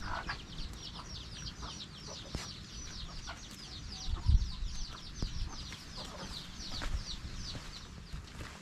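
A chicken clucks continuously in a rapid, chattering run at moderate distance, over a low outdoor background with occasional soft knocks.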